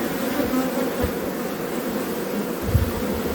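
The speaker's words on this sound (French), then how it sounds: "On peut toujours essayer de poser la cage pour voir la réaction des abeilles." Honey bees at a hive respond to a queen cage set on top, a dense, continuous buzzing hum from many insects, close and steady with slight swells in intensity.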